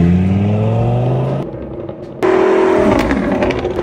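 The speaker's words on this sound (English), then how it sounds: "Now we gotta race it down the road to get the engine super warm." A Lamborghini supercar revs and accelerates hard down a road, its loud engine note climbing, dropping briefly during a gear change, then surging again close by.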